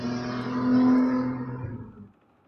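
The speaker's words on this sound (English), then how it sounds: "Sorry for like all the engine noises." Engine noise in the video game NieR Replicant, a droning mechanical hum that swells slightly then fades out after about two seconds, heard alone without talk.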